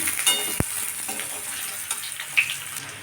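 Oil sizzles and crackles steadily as potatoes fry, with a sharp clack partway through and a few small pops over the hiss.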